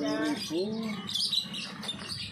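Songbirds chirp and call inside a shop selling songbirds, their bright tweets mixed with nearby voices talking throughout.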